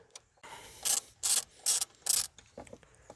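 A ratchet fitted with a 10 mm socket and extension loosens the throttle body on a 1.5 Mazda 2, giving four loud, close clicking bursts separated by brief pauses, followed by a few softer taps.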